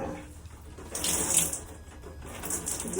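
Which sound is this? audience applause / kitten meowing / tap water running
tap water running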